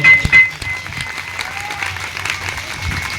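A crowd at a Hindu religious katha gathering gives a strong round of clapping as a welcome. Two loud bursts open the clip, then the applause continues as a dense, even patter.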